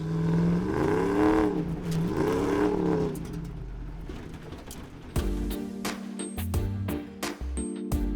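A Dodge Ram pickup's HEMI V8 with a Banks exhaust revs up and down in two long swells, then settles into a loud, rumbling idle with sharp blips of throttle close by.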